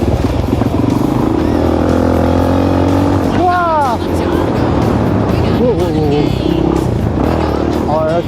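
A 1980 Honda 125 XLS motorcycle engine runs loud and close during a Baja 1000 race, a constant droning rumble with rising and falling pitch sweeps as it revs, under occasional voices.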